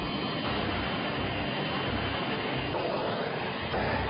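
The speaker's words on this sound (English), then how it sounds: "The Weather Channel put one safe room to the test by blasting it with a jet engine." A jet engine blasts a reinforced concrete-block safe room in a wind test, giving a loud, steady broadband roar that holds without a break.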